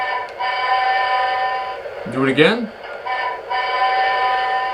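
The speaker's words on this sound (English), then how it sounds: "so we'll press the whistle button." A G gauge model train locomotive's steady, multi-toned whistle sounds close by, briefly dropping out while a voice speaks, then continuing in a sustained drone.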